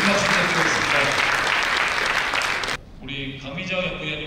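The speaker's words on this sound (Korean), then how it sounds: "네, 큰 박수 부탁드리겠습니다." Audience at a Hana Bank economic outlook lecture applauding steadily and fairly loudly for nearly three seconds before the clapping breaks off, followed by a brief quieter stretch with lingering room noise.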